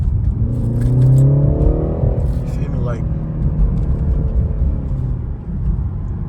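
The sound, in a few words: BMW 330i engine accelerating in second gear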